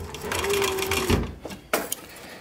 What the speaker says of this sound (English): make sure this needle pops right on that stitch line from those decorative stitches there